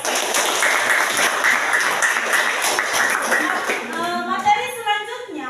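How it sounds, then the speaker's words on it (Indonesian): A class of students applauds at the end of a maths lesson, lively clapping for several seconds before it thins out and a voice begins speaking. "tepuk tangan dulu untuk kita semua"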